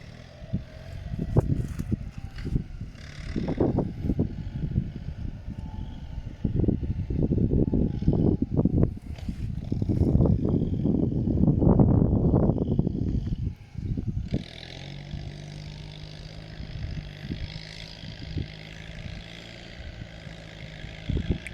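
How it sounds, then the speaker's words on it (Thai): A heavy diesel tractor engine with its original exhaust rumbles with throaty, pulsing exhaust bursts while ploughing with a three-disc plough, then settles into a steadier, quieter idle drone near the end. "โอ้เสียงท่อดังดีมากครับ"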